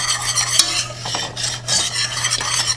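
A whisk working xanthan gum into a hot blueberry mixture for keto crumble bars, with quick rhythmic scraping and tapping against the pot over a soft bubbling sizzle, close up and with no voices.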